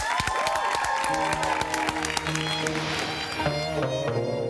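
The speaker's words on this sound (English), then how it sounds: "And while you are giving him a big round of applause, watch this video." Studio audience applause and cheering for actor Russell Crowe on a talk show, with clapping running under a musical passage with sustained tones and voices.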